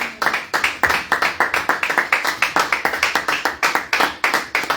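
A church congregation claps in praise of the Lord during a worship service, with fast, steady rhythmic clapping from many hands that continues loudly throughout.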